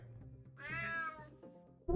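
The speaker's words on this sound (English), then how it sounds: "Damn cat." A single drawn-out cat meow in the video game UnMetal, fairly faint over quiet background game sound, followed by a sudden louder noise at the end.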